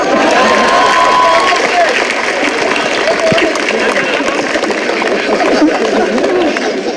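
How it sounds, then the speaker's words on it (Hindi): A crowd at a Hindi poetry recital claps and cheers steadily, dense applause mixed with chatter and a few shouts, continuing throughout. "और अब आपकी तालियां उठेंगी"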